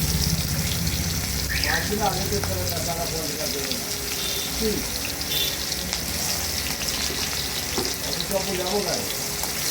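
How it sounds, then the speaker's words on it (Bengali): Chopped onion hits hot oil tempered with whole cumin, giving a continuous frying hiss with occasional stirring, while faint voices and background noise sit underneath. "পেঁয়াজ কুচিটা তেলের ভিতরে দিয়ে দিলাম"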